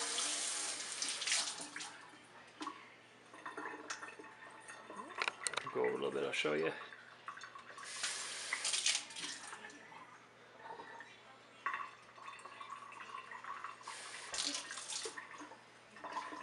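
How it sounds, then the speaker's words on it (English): Running tap water rinses out a corroded battery compartment of a toy or flashlight after cleaning with baking soda. The water comes in several close, splashing bursts with pauses between them, and someone talks in between. "I'm just going to rinse it out with water."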